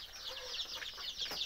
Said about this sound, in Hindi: ये मुर्गी हरी घास खा रही हैं सब